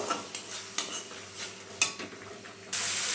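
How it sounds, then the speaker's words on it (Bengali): A spice paste mixed with sour yogurt is sautéed in a pan, a soft sizzle broken by close spatula scrapes and taps, ending in a sudden louder hiss; no voices. "এবার এটাকে খুব ভালোভাবে কষিয়ে নেব"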